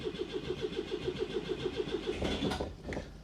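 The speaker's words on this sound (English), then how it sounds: "it's good the engine's spinning over at about 150, 200 RPM." A GSA motorcycle engine, short of oil pressure, cranks over on the starter at about 150 to 200 RPM in an even, rapid chugging rhythm, close and clear, then breaks into a rougher burst near the end.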